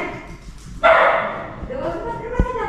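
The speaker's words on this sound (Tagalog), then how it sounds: "May aso man nay." A dog barks outside a house: one loud, sudden bark or yelp rings out close by, followed by quieter yips, while people talk nearby.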